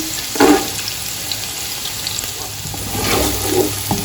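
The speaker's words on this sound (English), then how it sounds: "To this I'm going to add 1 cup of diced carrot, which I've diced quite finely." Finely diced carrot frying in a pan for egg fried rice, a steady close sizzle with a couple of louder bursts near the start and end, no voices.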